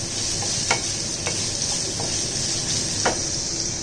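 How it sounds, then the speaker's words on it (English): Carrots frying in a pan sizzle with a steady bright hiss, broken by a few quick scraping stirs of a spoon against the pan, close up and without voices. "after the 2 minutes of frying the carrots in this"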